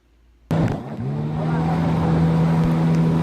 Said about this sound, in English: David, why are you driving so fast?